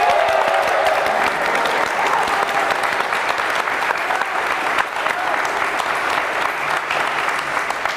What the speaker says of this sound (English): Let's give ourselves a big round of applause,